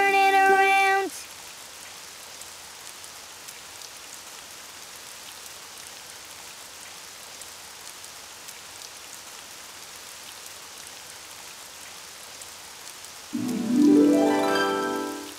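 Steady rain falls outside, a soft, even hiss of drops that runs through nearly the whole stretch, with short tonal sounds breaking in at the start and the end.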